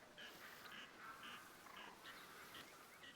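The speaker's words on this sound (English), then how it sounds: "Those are different ducks." Ducks quack repeatedly in the hunting video game The Hunter: Call of the Wild, a chattering run of nasal calls that sounds fairly distant and faint over a steady outdoor ambience, with no talk.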